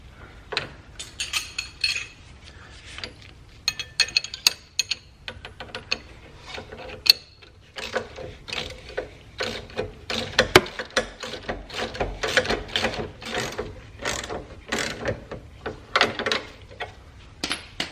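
A nylock nut is tightened through a bushing on a homemade bracket, producing repeated close metallic clicks and ratcheting taps in irregular bursts with small clinks, and no talk.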